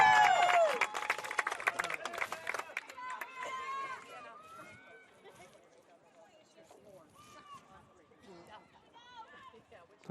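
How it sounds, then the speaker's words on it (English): Home fans at a women's college soccer match, St Francis Brooklyn Terriers against Stonehill Skyhawks, clap and cheer after a goal, a loud burst of applause that quickly dies down beneath sparse crowd sounds and distant shouts. "Home crowd celebrating the goal"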